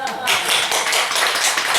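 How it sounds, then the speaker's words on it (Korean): A church congregation at a Sunday afternoon service applauds together, a dense, bright burst of clapping lasting under two seconds. "박수 한번 쳐드려요."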